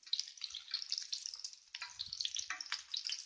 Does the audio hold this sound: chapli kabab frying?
yes